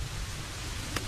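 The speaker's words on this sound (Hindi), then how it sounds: "यहाँ पर बारिश हो रही है" Steady rain hisses as an even, close wash of noise, with a low rumble underneath and one brief sharper tap near the end.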